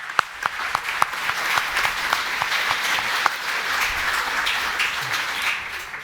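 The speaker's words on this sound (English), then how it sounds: "Give them a round of applause." An audience at a Garma Festival 2023 panel applauds the speakers with sustained, even clapping from many hands, a few sharper individual claps standing out near the start, with no voices.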